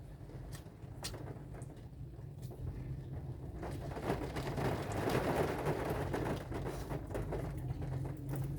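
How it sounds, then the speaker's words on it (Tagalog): Steady rain falling outdoors, a continuous wash of patter that grows a little heavier midway, with a few scattered louder drips. "Maghapon na naman ang ulan"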